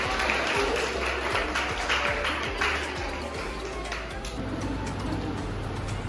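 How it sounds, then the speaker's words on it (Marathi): Third-year students clap in appreciation at a college farewell day, a moderately loud, steady patter of many hands with some taps and faint voices mixed in. "टाळ्या वाजवा."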